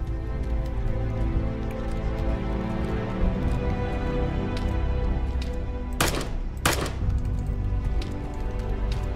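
Gunfire in a battle royale video game: rapid shots and crackling bursts ring through the constant game mix, with two sharp, louder bursts near the end.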